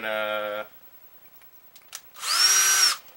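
A power drill whirs briefly at the start, then after a quiet pause a second higher-pitched burst with a 1/16-inch bit runs for under a second, drilling holes in a bow foregrip.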